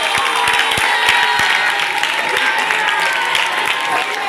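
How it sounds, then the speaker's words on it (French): Audience applause at a JCC event, a Question pour un champion-style quiz game: dense, steady clapping from a crowd, loud and continuous throughout, with sharp individual claps standing out. "acclamez"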